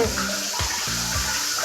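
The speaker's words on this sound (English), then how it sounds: "so I'm listening to a lot of water." Water runs steadily and loudly, like a tap gushing into a sink, a continuous close splashing rush that fills the whole moment without pause.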